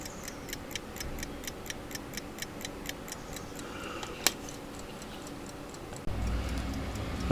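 An 1867 silver fusee pocket watch ticks in a steady, quick, even rhythm. The ticks are faint and close, with a louder click partway through and some handling noise near the end.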